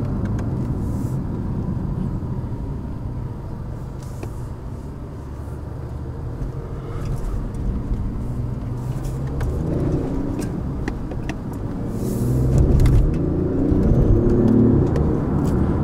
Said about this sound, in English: It sounds like a kind of electrical sound when you floor it.